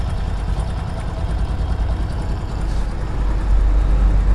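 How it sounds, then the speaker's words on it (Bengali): A motorcycle engine idles close by at about 1200 rpm after a slow start, a steady low rumble that gets slightly louder toward the end. "তো লুজ করার পর আমি এখন বাইকটি স্টার্ট করতেছি, আপনারা দেখেন বাইকটি স্লো পিকআপের মধ্যে স্টার্ট হয়েছে।"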